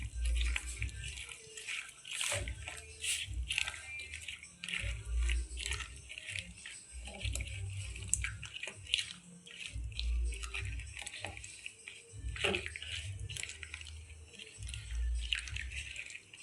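Prawns being mixed by hand with a spice paste, a close, wet squelching and squishing that repeats in uneven handfuls, with low thumps of the bowl throughout.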